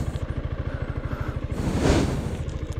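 A Yamaha XMAX V2 scooter engine running warm, its steady low pulsing thrum close and continuous, swelling briefly louder near the two-second mark before settling back.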